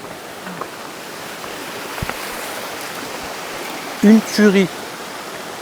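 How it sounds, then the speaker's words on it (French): A steady broad rush of flowing water from a small river and nearby waterfall on the Rivière des Remparts, constant and fairly close throughout, with a brief thump and a man's short spoken exclamation near the end. "Il y a la cascade qui est là-bas"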